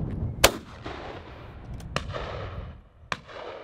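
Three sharp shotgun blasts at a clay shooting ground, spaced a second or so apart, each cracking loudly then echoing away over a windy outdoor background.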